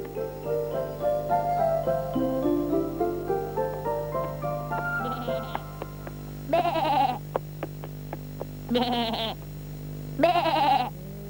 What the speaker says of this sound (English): Bleated the sheep.